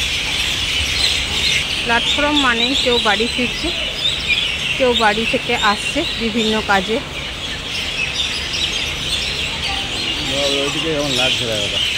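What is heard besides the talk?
myna birds chirping noisily at Raniganj railway station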